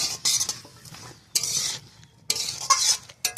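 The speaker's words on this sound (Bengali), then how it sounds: "পরিমাণ মতো হলুদ দিয়ে একটু নাড়াচাড়া করে নেব।" A hilsa fish curry with turmeric is stirred in a pan: loud, close scraping strokes come in bursts with short quiet gaps, over a light sizzle.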